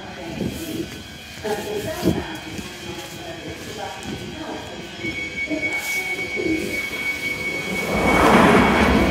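A Northern Line Underground train runs through the Kennington Loop, a steady rumbling roar of wheels on rails with rhythmic clatter, rising to a louder squealing, hissing surge near the end.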